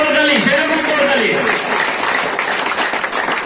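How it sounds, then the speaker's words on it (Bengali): An audience at a business meeting bursts into loud sustained applause, dense clapping filling the room while a voice talks over it. "ডায়মন্ডের উদ্দেশ্যে আবার জোরদার করতালি একটা ভাই"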